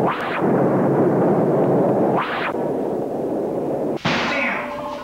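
Three heavy, booming pulsar cannon blasts in the video game Border Patrol go off a couple of seconds apart, each with a sharp onset and a dense, rumbling body that carries through the gaps.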